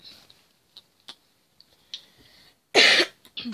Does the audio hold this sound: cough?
yes